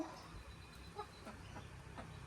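Chickens on a coconut farm cluck in faint, scattered short calls against a quiet outdoor background, with no talk.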